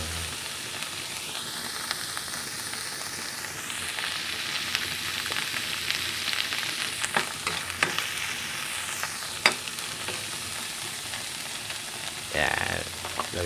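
Frying in a pan with garlic, onion and shrimp paste while cooking balatong mung beans: a steady close sizzle with occasional stirring scrapes and clinks.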